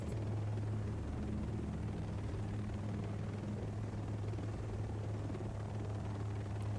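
A helicopter in Ghost Recon Breakpoint flies toward an island, heard as a steady low rotor thrum and drone holding constant throughout, with no talking.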